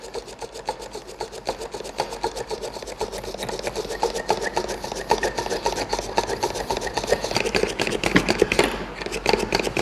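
A manual hand mixer whisks float drink batter in a bowl, making a rapid, steady, rhythmic scraping and rattling that stays close and continuous with no talk over it.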